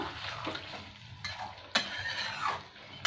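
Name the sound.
water added to egg biryani sizzling in the pan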